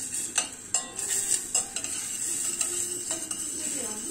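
Fat melts with a light sizzle in a pan for İskender kebab sauce while a spoon scrapes and stirs, giving several sharp clinks over a steady hiss.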